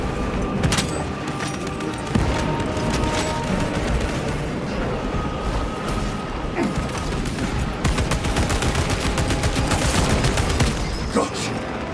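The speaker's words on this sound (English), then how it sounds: "Throwing frag grenade!" Heavy battle noise in Warhammer 40K: Space Marine 2, where a frag grenade is thrown and detonates amid sustained gunfire and booming impacts, loud and dense across the whole stretch.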